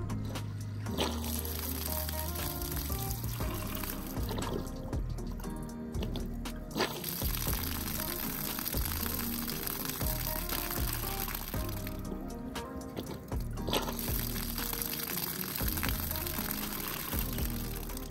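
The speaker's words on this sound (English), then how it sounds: "verify that both the smartphone and the remote could turn on and turn off the" Water pours and splashes continuously from a pump-fed outlet, a dense rushing flow that runs the whole time with slight surges, heard alongside steady background music.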